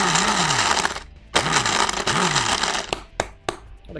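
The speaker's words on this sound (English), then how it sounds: "What a good blender." A blender pulses an egg cocktail in a handful of short bursts, each motor whine rising and falling in pitch, the later pulses briefer and quicker, loud and close with no one talking.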